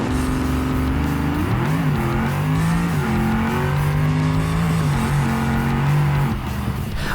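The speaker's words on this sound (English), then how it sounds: "The soft launches are accomplished by holding off on the nitrous until halfway through first gear in order to not flip the car over." A drag car in the BeamNG driving game makes a nitrous-assisted soft launch, its engine droning loud and steady as the pitch climbs and dips through first gear.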